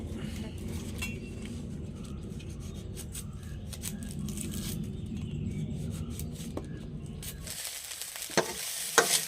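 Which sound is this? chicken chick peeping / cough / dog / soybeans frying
soybeans frying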